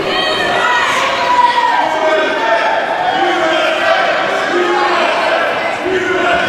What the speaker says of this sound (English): You hear the crowd here chanting USA in support of Shooter McGee.